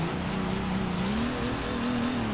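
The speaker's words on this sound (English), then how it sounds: "It's revving up a little quicker, right?" A maxed-out Nissan Titan pickup with a Cummins diesel engine revs in Forza Horizon 3, a steady loud drone with rising pitch that climbs quickly and holds, with no talk over it.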